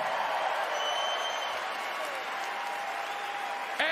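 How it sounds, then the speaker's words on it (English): Crowd applause at a jersey retirement ceremony for basketball players, a broad sustained roar of clapping that fills a large hall. A loud, steady ovation heard alone, without talk over it. "we'll give them a massive round of applause"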